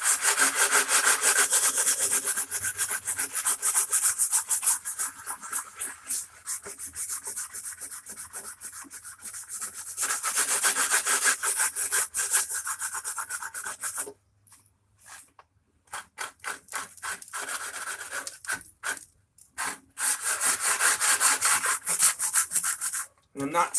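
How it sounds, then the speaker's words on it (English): Hand sanding of a painted wooden furniture top, removing spots of chipped paint: rapid rhythmic back-and-forth scraping strokes, close up, in bursts broken by brief pauses and a few knocks. "And I'm not sanding the entire thing down."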